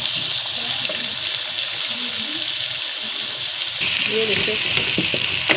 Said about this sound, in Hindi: ये देखिए, प्याज डाल दिया, तेल गर्म है, जल्दी जल्दी ये गोल्डन हो जाएगा